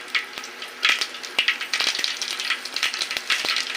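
Dried red chilies sputtering in hot oil with cumin and mustard seeds for tempering, close crackling pops in uneven bursts over a faint hiss.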